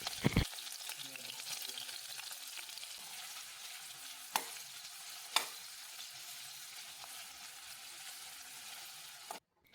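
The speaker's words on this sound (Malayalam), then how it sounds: "ആദ്യം ഒരു പാത്രം അടുപ്പത്ത് വെച്ച് നെയ്യും വെളിച്ചെണ്ണയും ചേർത്ത് അതിൽ കുറച്ച് സവാള ഇട്ട് നല്ലോണം മുരിച്ചെടുക്കുക." Onions frying in ghee and coconut oil for biryani give a steady close sizzle with a couple of sharp pops and clinks, ending abruptly.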